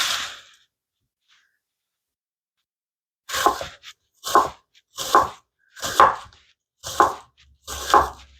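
Onion being chopped for sofrito on a board, six firm evenly spaced knife strokes about a second apart after a short silence, close and clear with no voices.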